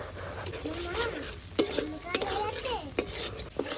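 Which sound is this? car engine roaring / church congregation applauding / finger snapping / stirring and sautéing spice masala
stirring and sautéing spice masala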